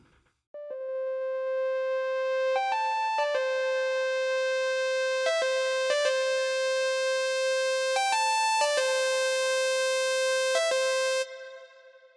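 Synthesizer lead sound for the song, played as a clear, sustained monophonic melody of bright harmonic tones with distinct note changes, growing brighter toward the end before stopping abruptly, alone without talk.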